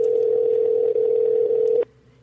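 A telephone tone drones steadily for nearly two seconds while a caller waits for someone to pick up, then cuts off abruptly into near silence.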